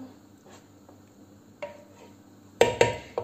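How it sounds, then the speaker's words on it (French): A utensil stirs spiced bulgur pilaf in a pot with soft scraping, then ends on a few sharp, close metallic clinks against the pot rim. "Donc là, je mélange."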